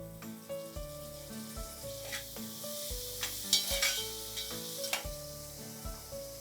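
Tomatoes hit hot oil with crisp garlic and onions for a restaurant-style mixed dal tadka, a loud steady sizzle with occasional stirring scrapes over soft background music.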